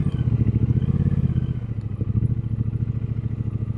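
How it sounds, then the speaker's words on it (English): A shop-built Triumph Speedmaster motorcycle engine thrums steadily and close by as it rides along a road, with a rapid, pulsing beat and a slight clatter. "This is a lot of motorcycle."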